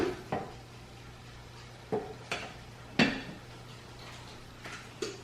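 A pan lid is set back on while French toast cooks, light metallic clinks and clatters, several separate taps spaced over a few seconds against a low steady hum.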